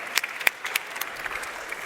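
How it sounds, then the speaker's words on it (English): Audience applause at a conference, a short burst of scattered, fairly quiet clapping with a few sharper individual claps standing out. "Can we have a round of applause for these lovely gentlemen?"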